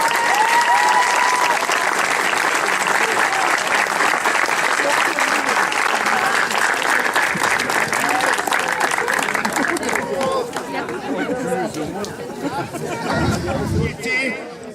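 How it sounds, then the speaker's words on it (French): Audience applause at the opening of the 2023 Cornards judgement ceremony in Saint-Rome-de-Tarn, steady loud clapping from a crowd with background chatter, thinning out toward the end. "Ce serait pas mal qu'on fasse un petit applaudissement."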